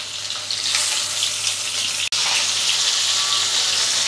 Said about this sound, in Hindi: हाई फ्लेम में इसे दोनों तरफ से फ्राई कर लेंगे। और ये थोड़ा सा छिटकते हैं